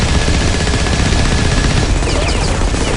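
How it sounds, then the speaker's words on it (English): Minigun with area-of-effect rounds fires nonstop in the shooter Firefall, a dense, loud, unbroken roar of rapid gunfire filling the whole stretch, with no talk over it. "AoE minigun, which is it just rips through people"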